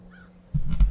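A couple of loud, close crow caws ring out in the Paradise Killer game world, coming after a short, quiet lead-in.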